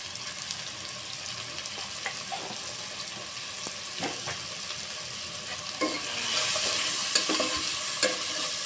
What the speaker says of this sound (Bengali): আলুটা ভাজা ভাজা হতে থাক